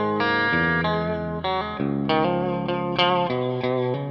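Gibson Les Paul electric guitar with its humbucker in coil-split mode, playing a steady run of sustained single-coil chords and notes with a bright, thinner tone, close and loud with no talking.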